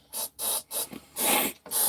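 Raid insecticide sprayed onto insects in a refrigerator, five close hissing aerosol bursts of uneven length, the longest near the end, with short silent gaps between.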